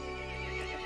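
A horse in Resident Evil Village whinnies in a short, tonal neigh over a steady background hum, with faint hoof clops mixed in.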